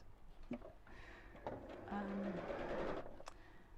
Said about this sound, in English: I'm going to sew all the way around the top.